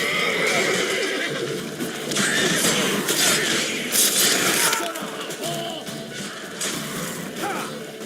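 Roach, Geralt's horse in The Witcher 3 video game, gives a loud, drawn-out neigh and whinny in the middle of combat noise, with hooves shuffling and a voice speaking briefly.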